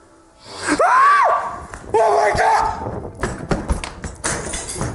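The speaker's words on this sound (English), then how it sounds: "The scream in his throat sounds very real" A man lets out a loud, strained, rising and falling cry, followed by a second shorter yell and some thumps and clattering afterward.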